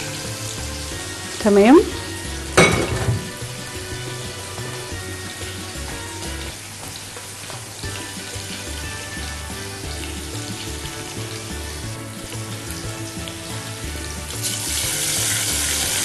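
Onions frying in a pan during home cooking of lentil soup and cauliflower casserole, a steady broadband sizzle running throughout, with a couple of brief clatters early on and a short spoken word near the start.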